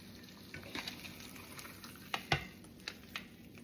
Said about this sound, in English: I'm just going to flip it over one more time just to get that white cooked on the other side